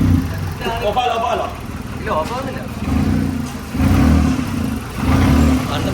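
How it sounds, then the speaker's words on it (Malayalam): Car engine running after being started, a medium rumbling hum that swells and eases in waves, close by with people talking over it. "അപ്പൊ നമ്മുടെ വണ്ടി സ്റ്റാർട്ട് ആയിരിക്കാൻ സുഹൃത്തുക്കളെ"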